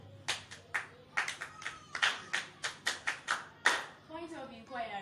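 Children at a children's church drama event clapping in a quick run of sharp, close claps that then fade into chatter, with voices talking over the end.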